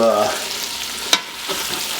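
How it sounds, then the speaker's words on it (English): Beef browning in a stock pot for stew, a soft continuous sizzle with one sharp utensil clink partway through, otherwise steady and fairly close with no speech. "When I get this meat browned up, we'll go to the next step in this beef stew recipe"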